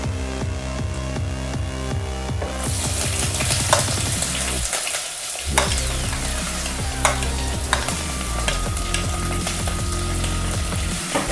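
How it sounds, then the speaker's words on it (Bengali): Onion frying in hot oil with cumin and dried red chilli, giving a continuous close sizzle over rhythmic stirring and scraping in the pan, with no talk. "পেঁয়াজটাকে তেলে একটু ফ্রাই করে নেব।"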